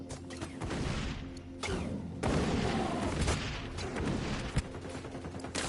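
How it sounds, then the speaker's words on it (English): Napalm strike in the shooter game XDefiant, a sustained roaring wash of explosions and burning with heavy booms and crackling debris, loud and dense across the whole stretch. "Got that napalm you requested"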